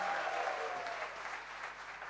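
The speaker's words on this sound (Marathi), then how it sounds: "जोरदार टाळ्या आपण त्याच्यासाठी वाजवूया." An audience at a talk on rural marketing breaks into loud, sustained applause, a steady wash of clapping that eases slightly toward the end, with a brief tonal whine near the start.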